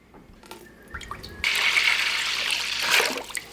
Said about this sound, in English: we're gonna put our water in the stock pot